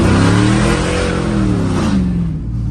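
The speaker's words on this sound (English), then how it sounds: "It's a race truck, muscle truck." A race muscle truck's engine revs loud and close, its pitch climbing and falling through several throttle blips before dropping away near the end.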